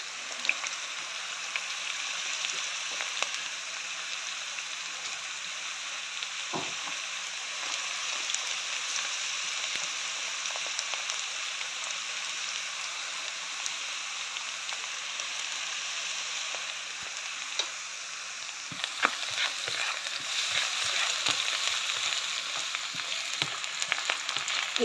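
Chopped onions and garlic fry steadily in a pan for pork liver apritada, a constant close sizzle with a few faint clinks and scrapes scattered through, no talking.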